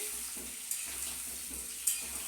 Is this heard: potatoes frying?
yes